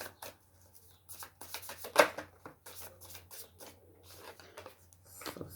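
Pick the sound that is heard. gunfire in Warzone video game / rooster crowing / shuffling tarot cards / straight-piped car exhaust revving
shuffling tarot cards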